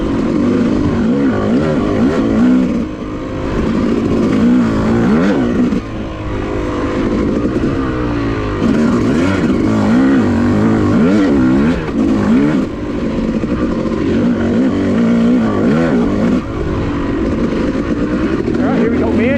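A Yamaha YZ250 two-stroke dirt bike rides the Wambaw Cycle Trail OHV North Loop, its engine loud and close as it revs up and down through repeated throttle bursts and gear changes.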